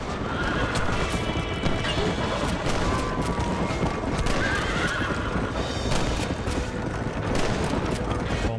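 Horses neigh and hooves clatter while pulling a wagon in Red Dead Redemption, under a dense, loud, continuous roar of game action with scattered sharp bangs.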